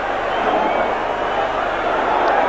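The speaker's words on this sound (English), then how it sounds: "The crowd encroaching on the pitch" Football crowd at the Crystal Palace v Blackburn Division 2 play-off final, 1989, during extra time: a steady, loud roar of massed spectators with no pauses, blended with general stadium din.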